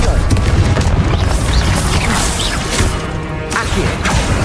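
Confringo spell blasts in Hogwarts Legacy burst as loud, booming impacts with crashing debris and whooshes, layered over continuous game sound and some voice.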